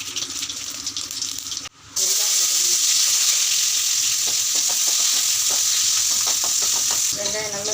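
Cinnamon and fennel drop into hot oil in a pan, setting off a sudden loud sizzle that holds steady and close, with light crackles and stirring through it.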